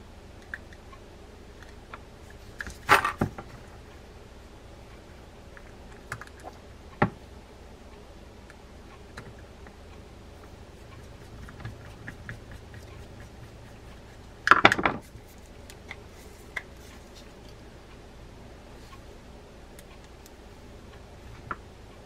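Small screws are fitted to the side plate of a Shimano Calcutta 700 fishing reel, faint metallic ticks and two louder clicking bursts against a quiet background.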